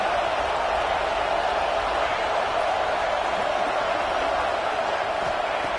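Football stadium crowd at Texas versus Arkansas, a broad continuous roar of thousands of fans cheering, steady and loud with no breaks, heard as a dense wall of noise.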